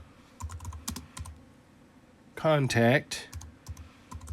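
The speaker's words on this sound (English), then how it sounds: "And then I've got a comment section here I'm going to type into." Typing on a computer keyboard into a comment box, with quick light key clicks in short bursts and a brief spoken word in the middle.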